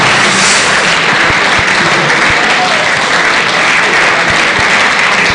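A large crowd at a motivational event in Jos keeps up sustained, loud applause, a thick roar of clapping with occasional sharper hits, while a voice is faintly audible beneath it.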